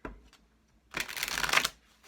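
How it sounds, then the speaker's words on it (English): A single quick riffle of playing cards being shuffled up close, a brief fluttering burst after a faint tap. "I always shuffle on film or on camera so you can see I'm not stuck in the deck"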